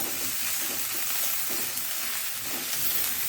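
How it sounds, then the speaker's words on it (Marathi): Ginger-garlic paste stirred into a hot frying pan for a spicy Vidarbha-style brinjal bharit, giving a steady, close, even sizzle that runs the whole time with no talking. "पेस्ट आपण यामध्ये टाकूया छान हलवून घेऊ छान मिक्स करून घेऊया"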